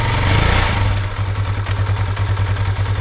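A 2022 Bashan Brozz 250 Recon dual sport motorcycle engine idles steadily up close just after starting, with a loud, even low putter and a slight dip in pitch partway through.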